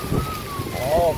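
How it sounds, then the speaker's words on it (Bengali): Heavy rain from Cyclone Remal makes a broad, steady hiss behind a voice talking over it. "কি বৃষ্টি,"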